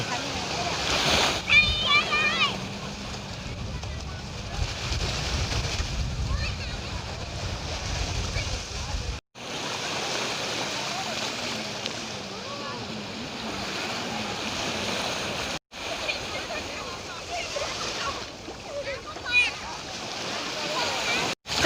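Sea waves washing onto Jomtien beach, a steady rushing surf with splashes and wind buffeting the microphone, while people talk and shout nearby.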